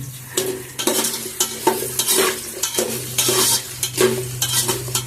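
Potato, onion and green chillies fry in oil in a pan, giving a busy sizzle broken by regular scraping stirs of a spatula against the metal, close and fairly loud, with no talking.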